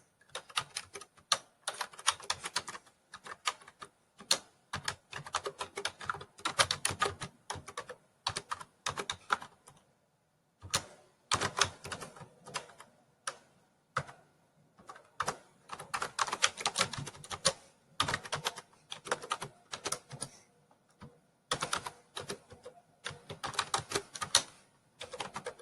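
Fast, close typing on a computer keyboard while working in Microsoft Word, with rapid clattering bursts of keystrokes separated by short pauses.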